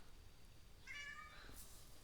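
A cat gives a single short meow near the middle, faint and fairly close, over quiet background hiss.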